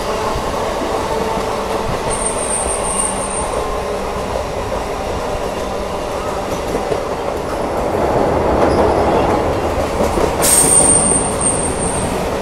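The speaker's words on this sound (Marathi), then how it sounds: "परत आपल्या ट्रेनने ओव्हरटेक केला ना" A passenger train runs at speed on the Howrah–Delhi line near Dum Dum Junction while another train passes on a parallel track, giving a steady loud rumble of wheels and carriages with brief high squeals and a swelling roar as the trains draw level.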